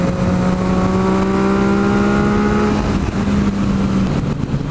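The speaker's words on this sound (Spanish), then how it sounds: "Ahora vamos a intentar que llegue un poquito más de revoluciones" A Yamaha FZ-09 (MT-09) motorcycle engine revving close up, a loud steady drone with rising harmonic tones that climb, hold, then drop before a second brief rise.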